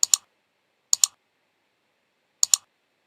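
Three double mouse clicks at a computer while running a Visual Studio Xamarin project with SQLite, each pair crisp and close, separated by silence.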